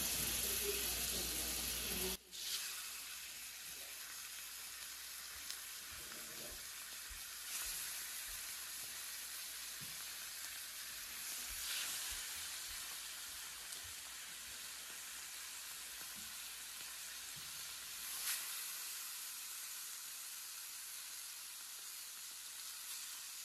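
Venison backstrap searing in a hot pan gives a steady, close sizzle that runs for the whole stretch, with faint clinks and small handling noises over it and no talk.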